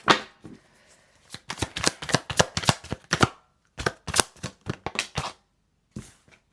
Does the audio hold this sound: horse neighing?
no